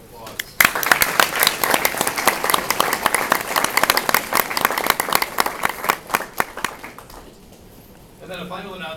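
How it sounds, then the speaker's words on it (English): An audience at a university scholarship award ceremony breaks into a round of applause, dense clapping that swells and then thins out, followed by a brief voice at the end. "I think it'd be appropriate for us to recognize his generosity with a round of applause"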